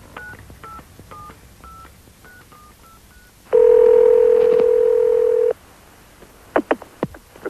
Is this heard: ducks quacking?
no